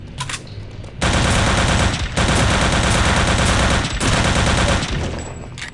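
Gunfire in Return to Castle Wolfenstein, loud sustained automatic bursts in three long stretches separated by brief pauses, dense and close, with no talk over it.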